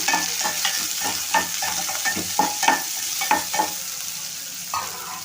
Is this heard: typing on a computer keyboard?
no